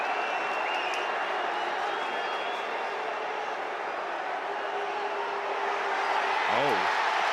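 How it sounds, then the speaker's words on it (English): TCU football fans cheer in the stadium, a steady broad crowd roar with scattered applause holding at an even level throughout, a brief whistle-like tone near the end. "The fans at TCU are cheering."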